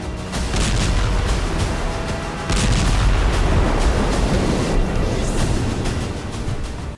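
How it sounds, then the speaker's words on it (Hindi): Rocket strikes from a multiple-launch rocket system explode in continuous, heavy rumbling booms that surge and overlap. A fresh burst lands about midway, and the roar stays loud throughout before cutting off abruptly. "रूस ने यूक्रेनी ठिकाने पर दागे हैं ताबड़तोड़ रॉकेट"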